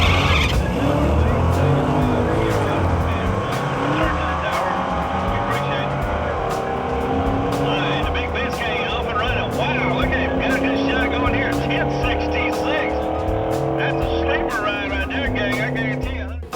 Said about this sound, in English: when I floored it on the starting line, it spun the tires real bad